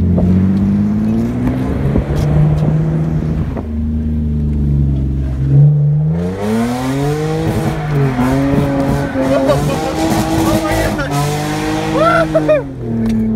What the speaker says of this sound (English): I'm gonna try to drift too.